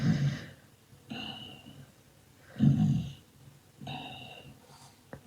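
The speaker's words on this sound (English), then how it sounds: "I bet you're going with that snore sound again." Cartoon snore sound effect from the Numberblocks series, two slow repeated cycles of a low snorting inhale followed by a softer airy exhale, fairly quiet and alone.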